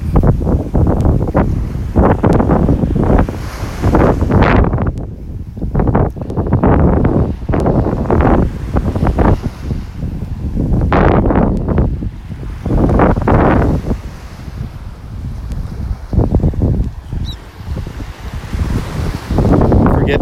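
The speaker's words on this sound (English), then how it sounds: "You can hear that wind blowing." Strong gusty wind buffets the microphone on a beach in North Naples, Florida, rising and falling in repeated loud bursts with surf washing in the background.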